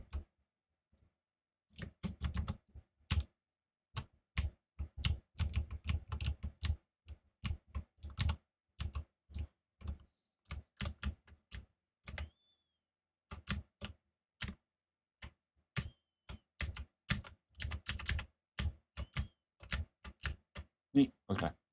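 Quiet, close clicking of computer keys in irregular bursts, with short pauses between clusters of keystrokes, on and off for about twenty seconds.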